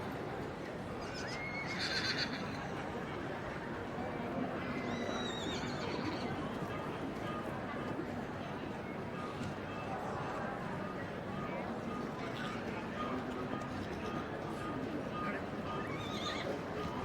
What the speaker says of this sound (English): It's lovely sight seeing these mares and foals.